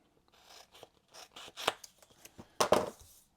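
Scissors rough-cutting cardboard game components, a series of short snipping and rasping cuts at close range, with two louder crunching snips near the end.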